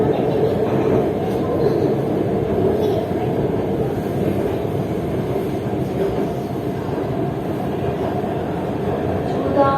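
Orange Line metro train running in Lahore, a steady loud rumble of wheels and motor filling the carriage throughout, with no pauses or announcements.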